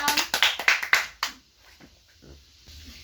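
A group claps hands together in a classroom session, about eight loud rhythmic claps in quick succession before stopping, followed by quiet murmuring voices.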